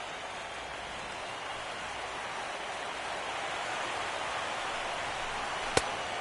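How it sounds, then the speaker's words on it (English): Steady rain falling at a Phillies–Cubs baseball game, an even broadband hiss throughout with one sharp brief crack near the end, no talk. "The rain, as we've mentioned, coming down fairly steadily here at game time."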